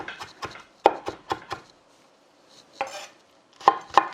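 A knife juliennes a carrot on a cutting board for a stir-fried seaweed stem side dish: quick bursts of sharp, close chopping strikes, a short pause, then a few more cuts.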